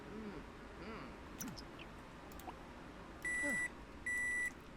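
Two sustained electronic beeps in The Sims 4 gameplay, close and steady, near the end, after faint scattered chirps and quiet background noise.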